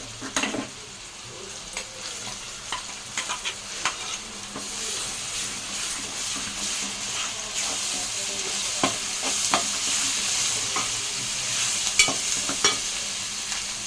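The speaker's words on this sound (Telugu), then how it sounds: "బాగా ఫ్రై కావాలి ఉల్లి పేస్ట్" Onion paste frying in a pan for a fish curry. A continuous bright sizzle runs throughout, with scattered clinks of a spoon stirring against the pan.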